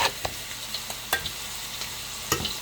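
Eggs cooking in butter in a pan give off a steady, close sizzle, with a few sharp scrapes and clicks of stirring popping out now and then.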